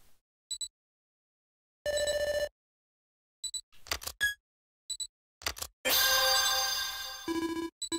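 A detective badge transceiver in the Detective Conan and Kindaichi Case Files game rings in a series of sharp electronic beeps and tones, in bursts separated by silences, with a denser, louder ringing stretch near the end.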